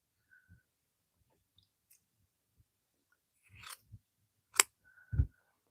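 Shears trimming the fur of a giant angora rabbit give a few sparse, crisp snips and clicks separated by quiet pauses, close and soft, with a louder pair of cuts near the end.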